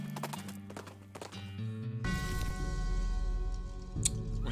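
A horse in the West of Loathing video game neighs and clops its hooves in a steady, near gait, then the sound shifts into a fuller, louder game backdrop with no talking.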